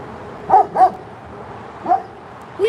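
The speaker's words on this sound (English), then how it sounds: "Who you barking at?" A dog barks in short separate yips, two quick ones together, then a single bark and another after a pause, moderately close over a quiet indoor background.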